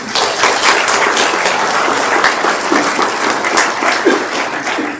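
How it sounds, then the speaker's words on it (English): A roomful of people applauds a retiring library volunteer at a community coffee gathering, steady dense clapping sustained for the full stretch at close, even loudness. "I would just like to give her a nice round of applause for all the work that she's done in our library"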